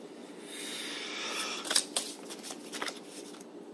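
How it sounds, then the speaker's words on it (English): A deck of board game cards is shuffled close by, a soft papery riffle building to a quick burst of flicking snaps followed by a few lighter ruffles, with no voices. "Let's get these bad boys shuffled up."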